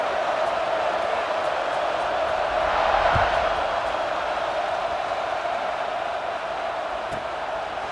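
Stadium crowd noise in the EA Sports College Football 26 video game, a steady dense roar of fans around kickoff with a faint swell of cheering partway through.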